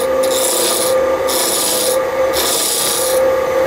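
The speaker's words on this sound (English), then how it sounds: "we're going to wood turn this into the round first of all" Wood spinning on a lathe as a gouge cuts it down to round, giving a steady loud rasping scrape with rhythmic pulses as the tool bites, close and alone.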